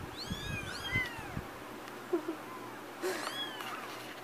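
Several house cats meowing around a couch, high rising mews in short bursts scattered across a quiet room, with soft bumps and shuffling between calls.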